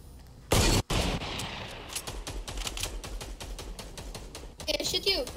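Gunfire in Fortnite during a Retail Row match: a loud burst near the start, then a long run of rapid cracking shots, some distant, with a final close volley while players talk.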